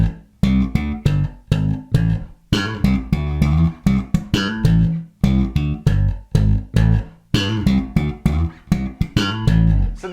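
Slap bass guitar riff played alone, with sharp percussive thumb slaps and popped notes in a tight, syncopated rhythm broken by short gaps, loud and close throughout.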